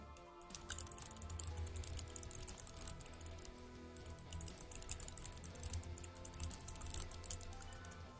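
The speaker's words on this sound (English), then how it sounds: "Sure can hear that new keyboard." Steady, rapid clicking of a new mechanical keyboard with green switches, typed on continuously and close up with no talking.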